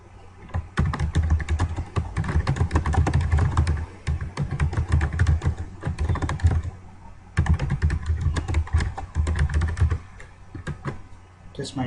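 Keys clatter on a computer keyboard in quick, close bursts of typing, broken by short pauses near the middle and toward the end.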